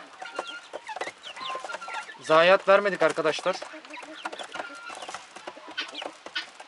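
White Bresse chickens cluck close by after being thrown wheat, with one loud bout of squawking in the middle, while someone talks over them.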